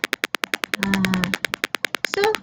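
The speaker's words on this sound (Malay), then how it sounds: "So buzzer dia ni perlahan dia bunyi macam ni je lah." A small buzzer on a motion-sensor security alarm project beeps in fast, evenly spaced pulses, soft and steady, partly masked by a burst of louder background noise in the middle.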